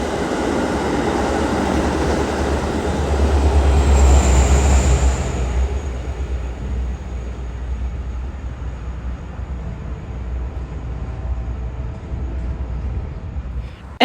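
CPKC locomotive 500 rumbles past at an intermodal terminal, a loud, deep passing roar that swells and then gradually fades into a steady rail rumble.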